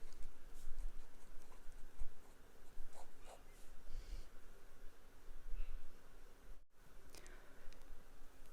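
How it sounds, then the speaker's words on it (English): Pen writing a note by hand during a maths lesson, a steady scratchy patter of strokes close up over a faint background hiss, with brief pauses between bursts. "So we're writing a note related to that."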